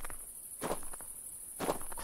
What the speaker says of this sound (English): Crunchy footsteps.